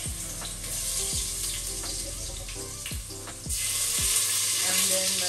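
Garlic sizzling and frying in hot oil in a home kitchen as the first step of jollof rice, a steady broad crackle close up that grows louder midway, with occasional clinks and no talk.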